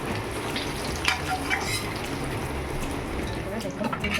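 Potato chunks frying in oil until reddish-brown, with a steady close sizzle and bubbling throughout, punctuated by a few soft stirring clicks.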